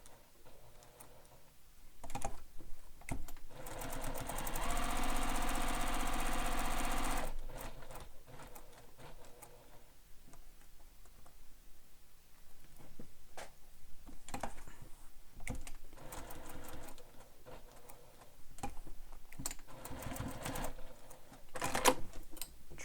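A sewing machine stitches a handheld bag, pivoting at the corners, in short bursts of quick ticking stitches separated by pauses, with one longer, louder run of sewing early on and soft handling clicks between.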